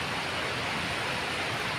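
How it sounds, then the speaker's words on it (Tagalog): Steady, dense wash of heavy rain, a constant broadband hiss with no breaks and nothing else standing out. "Lakas ng ulan."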